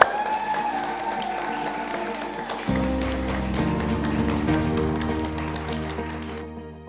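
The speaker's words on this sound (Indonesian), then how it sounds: "Tepuk tangan untuk kita semua." Applause from students in a school physics class, a dense patter of clapping running steadily throughout with a sustained tonal hum entering partway, ending abruptly in near silence.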